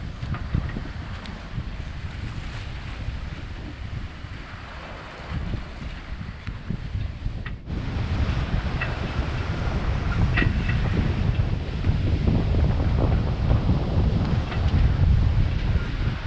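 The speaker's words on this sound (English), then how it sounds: "Got the wind on our beam, 12 knots of apparent, full Genoa and full main out." A sailboat under full genoa and full main runs on a beam reach in the South Pacific, with steady wind buffeting the microphone and a constant rush of water along the hull and no talking.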